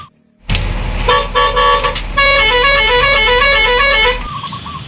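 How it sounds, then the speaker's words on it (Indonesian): A toy telolet bus sounds its horn, loud and close, with a brief tone followed by a rapid, warbling multi-note melody that plays for about three seconds. "ini ada bus telolet"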